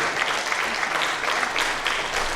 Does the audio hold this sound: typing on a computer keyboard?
no